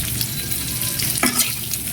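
Chunks of taro sizzle and hiss in hot oil with turmeric and salt as a spatula stirs and scrapes them around the pan, a steady close frying crackle with a brief louder scrape partway through.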